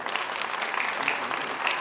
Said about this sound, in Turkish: Bir alkış alalım şöyle milletvekilimize.